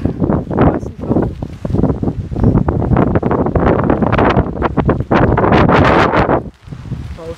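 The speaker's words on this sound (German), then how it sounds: "War auch starker Wind" Strong wind buffeting a microphone along coastal cliffs, heavy gusty rumbling in rapid irregular blasts that stay loud throughout before easing briefly near the end.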